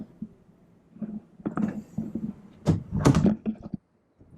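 A closet door in a 2018 Jayco Jay Flight SLX 195RB travel trailer rolls and thumps open, with clattering and knocking as it slides, close by and moderately loud, followed by a brief quiet.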